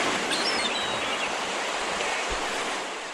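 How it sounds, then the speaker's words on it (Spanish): Sea waves wash steadily onto a shore in a continuous broadband surf roar, fairly loud and close, easing off slightly toward the end with no voices. "Este sonido nos traslada a un lugar con mar"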